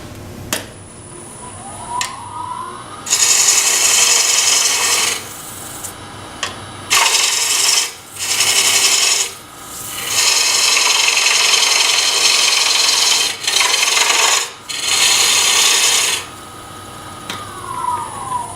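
A bowl gouge cuts into wood spinning on a lathe, giving loud, broadband hissing bursts of cutting, one after another, with short gaps between passes where the motor's quieter whir carries on.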